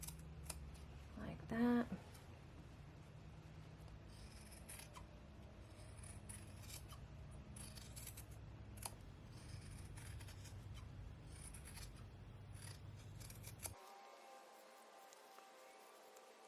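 Scissors snip through upholstery fabric while a scalloped chair skirt is trimmed, giving a quick run of close, crisp cuts followed by steady soft rustling. A voice speaks briefly.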